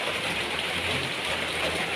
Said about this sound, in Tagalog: Kalakasan ng ulan.